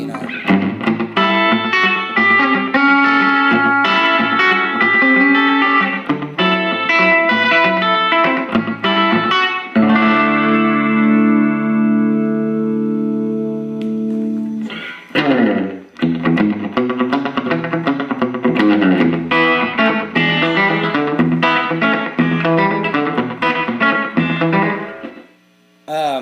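An electric guitar on the bridge pickup through a Fender Bassbreaker amp plays a bright, slightly distorted riff with effects, holding a sustained chord midway before picking resumes; a brief drop near the end.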